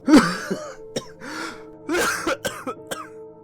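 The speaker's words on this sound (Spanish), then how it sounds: "Empecé a sufrir un acceso de tos" A harsh, raspy coughing fit: several throaty bursts and throat-clearing hacks in quick succession, close and fairly loud, with brief gasps between.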